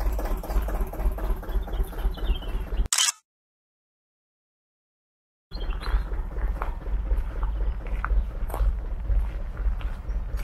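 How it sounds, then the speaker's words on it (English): An old vintage inboard engine on a canal boat chugs steadily and close by with a low, even rumble. The sound cuts out completely for a few seconds in the middle, then resumes at the same level. "I came to this boat with this wonderful old vintage engine"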